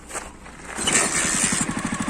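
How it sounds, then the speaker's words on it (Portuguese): A Honda CG 125 motorcycle engine is quiet at first, then fires up close by into a loud, rapid, evenly pulsing idle that chugs on to the end. "isso aqui é um motor de CG 125"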